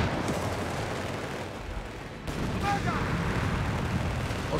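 A mortar squad fires in the World War II strategy game Company of Heroes 3, in North Africa: booming, rolling artillery blasts within dense battle noise, with a sharper burst midway and voices mixed in.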